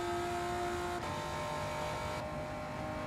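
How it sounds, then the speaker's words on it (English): A tuned 2006 Honda NSX Type R roars in Gran Turismo 7, a loud, continuous engine drone held at high revs, shifting pitch once mid-run and then steadying. "It's the 2006 Honda NSX Type R."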